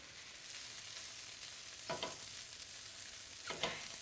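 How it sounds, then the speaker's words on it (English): Vegetables for a vegan pâté cook slowly over medium heat in a pan, a soft, even sizzle at low level broken by two brief scraping stirs, with no voices. "we're just going to let it slow cook and caramelize over a medium heat"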